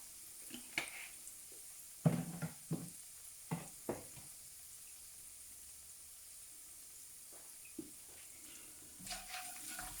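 Ground spices (coriander powder, garam masala and pepper powder) being stirred and sautéed in a pan for Kerala duck roast: faint steady sizzle with several sharp spoon-scraping clatters near the start and a few more later.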